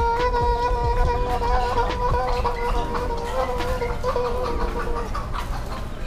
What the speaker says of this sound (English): Hawaii has chicken running around everywhere.